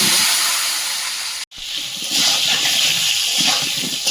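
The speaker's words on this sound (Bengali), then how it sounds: "ওল আর আলুটা ভাজা হতে হতে" Yam and potato pieces fry in hot salted oil in a kadai, a loud continuous sizzling hiss that cuts out for an instant and then returns even stronger.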